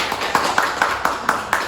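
An audience at a regional tax and development event in East Java claps in a steady, even rhythm, a run of sharp hand claps close by with no talking over them.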